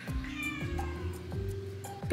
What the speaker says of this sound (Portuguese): Ela mia quando ela quer carinho e principalmente quando ela quer que brinquem com ela.